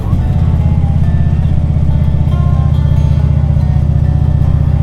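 A motorcycle cruising along two-lane Highway 2 produces a loud, steady engine drone that holds an even pitch, close and continuous throughout.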